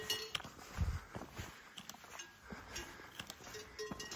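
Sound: cows with cowbells on a mountain pasture

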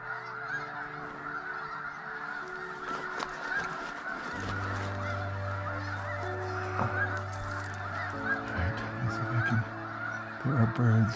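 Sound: snow geese honking

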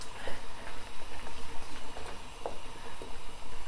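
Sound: sweet soy chicken and potatoes sauce bubbling on high heat

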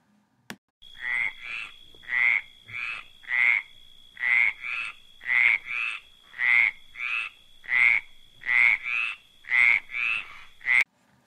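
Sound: frog croaking

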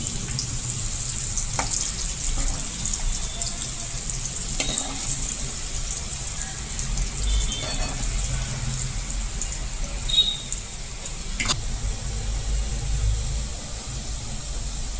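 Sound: garlic frying in a pan

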